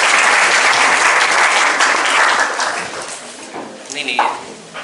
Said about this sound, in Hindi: इनके लिए ताली बजाई जाए फटाक से।